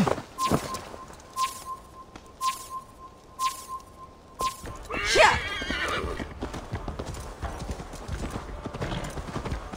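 A horse in Assassin's Creed Valhalla clip-clops at a steady walk with a few beeps early on, then whinnies loudly and hoofbeats continue.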